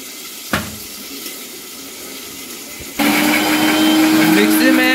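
Mixer grinder grinding green chillies and garlic with a little water into masala: a sharp click, then the motor starts abruptly and whines loudly and steadily after a short quiet lead-in.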